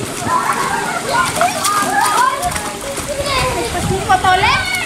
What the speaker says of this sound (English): He's got water to splash in.